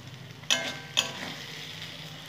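Mustard oil sizzles softly with eggplant in a pressure cooker, a low steady hiss broken by two sharp clinks of a utensil early on, close by and with no talking.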